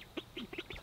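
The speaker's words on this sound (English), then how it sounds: "let's go see how the ducks are doing at the pond" Ducks at a pond quack in several quick, close calls, busy and chattering within under a second.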